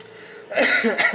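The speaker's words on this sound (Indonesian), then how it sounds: "Maaf ya, lagi batuk." A single close, harsh cough bursts out after a brief quiet moment, breaking into a couple of rough pulses.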